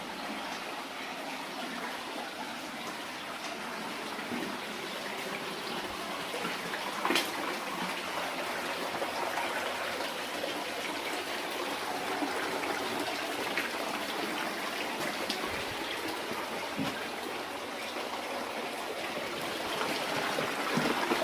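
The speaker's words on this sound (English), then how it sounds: "Sounds like a waterfall gets louder." Continuous roaring rush of a waterfall inside an abandoned 1850s gold mine, loud and steady, with a faint echo and occasional small knocks; no talking.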